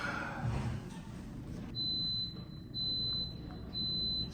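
A coffee maker beeps three times, each a long high-pitched tone with pauses between, fairly faint over a low background hum.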